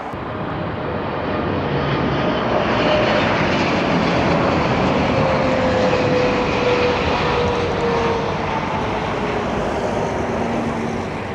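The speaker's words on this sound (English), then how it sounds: "this is an EVA airplane coming from Bangkok" EVA Air airliner arriving from Bangkok at Heathrow, a loud steady jet roar that swells and holds for several seconds, with a faint whine gliding downward as it passes nearby.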